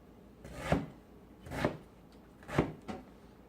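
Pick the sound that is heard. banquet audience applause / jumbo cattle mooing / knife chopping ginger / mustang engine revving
knife chopping ginger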